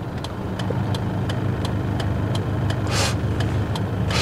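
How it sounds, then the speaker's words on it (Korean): A 1995 Hyundai Avante 1.8 with a manual gearbox idles steadily with the air conditioning on, giving a continuous low rumble with a regular faint ticking pulse. It plays alone with no talk. "그래도 뭐 공회전 때 RPM은 안정적입니다"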